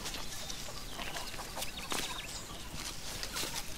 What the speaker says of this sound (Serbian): Kokoška.